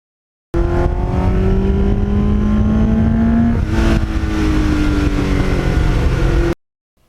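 A 1989 Kawasaki GPX750R motorcycle with reworked carburetors and pod air filters, engine droning loud and close while riding, pitch rising and settling through the gears, a continuous run that cuts off abruptly, with no talk.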